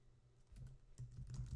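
Fingers typing a name on a computer keyboard, very soft, quick clusters of key taps that grow a little busier toward the end, with no speech.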